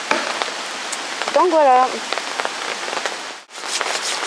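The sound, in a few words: rain falling on a campsite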